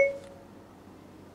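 A short, clear electronic beep from the voice control in a 2022 Ford Fiesta, heard once at the start and fading quickly into a quiet cabin.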